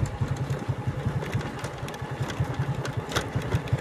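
A motorcycle engine runs close by on a village road, with a steady, fast pulsing thrum at moderate loudness and no talk over it.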